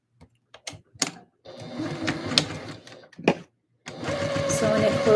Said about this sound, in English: now we're going to sew the waistbands